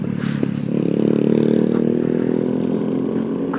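A motorcycle exhaust roars loud and close, a steady engine drone that swells and holds as the bike passes, heard from a rider's position on the road.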